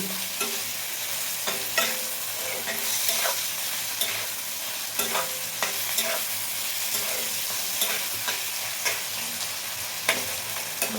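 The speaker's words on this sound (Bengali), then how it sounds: "সবগুলো সবজি মিশিয়ে নেড়ে চেড়ে নিচ্ছি।" Mixed vegetables for egg tarka sizzling in a pan while a spatula stirs them in a regular rhythm of scrapes and knocks, close and fairly loud with no talking.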